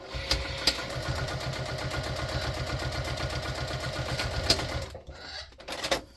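A sewing machine stitches a fabric basket with a quarter-inch seam, a close, steady rapid whirring rhythm running for about five seconds before it stops.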